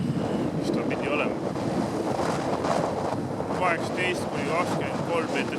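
Strong wind of 18–23 m/s buffeting the microphone at Meremõisa beach, a constant roaring rumble with surf-like wash and gusty swells, while people talk faintly underneath.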